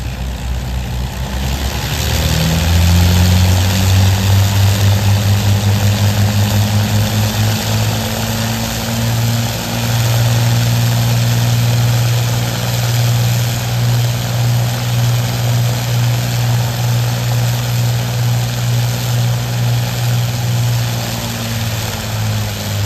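The Avro Lancaster "Just Jane" holds a static engine run-up to full power, a loud, steady propeller drone that climbs in pitch early on and then holds a deep, even roar throughout.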